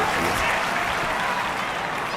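A dense, steady wave of applause fills the Pro Wrestling Japan arena in WWE 2K25, a large crowd clapping continuously and loudly throughout with no pauses.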